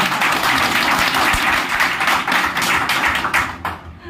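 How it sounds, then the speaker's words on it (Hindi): A seminar audience at a marketing and motivation event claps loudly and steadily, a dense, continuous wash of many hands with crisp individual slaps, tapering off briefly at the end. "अगर ताली बजानी है तो टिप टिप नहीं बजाना है बहुत"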